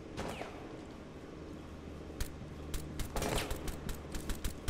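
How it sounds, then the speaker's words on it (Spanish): Rainbow Six Siege gunfire crackles in uneven bursts of sharp shots over a busy, noisy game background, sometimes in quick runs and sometimes as single cracks. "¿Está disparando algo o está disparando por disparar?"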